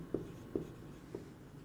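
A pen writing an accounting entry by hand on paper, three faint, brief strokes spaced apart in a quiet room.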